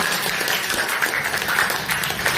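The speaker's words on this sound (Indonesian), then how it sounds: "Tepuk tangan untuk kita semua" Schoolchildren in a classroom clap together during a social studies lesson, a brief dense burst of applause filling the room at close range.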